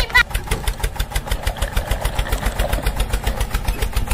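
A mini toy tractor's small engine chugs steadily in a fast, even rhythm of repeated pulses, close by and fairly loud, with no talking over it.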